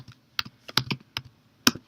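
Close keystrokes on a computer keyboard entering a Linux command, an irregular run of about ten sharp taps with short pauses between them, no voices.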